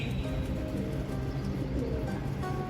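Pigeons coo steadily while feeding close by, a soft continuous murmur of calls over constant background hum, with a faint bell-like jingle from anklets on a bird's feet.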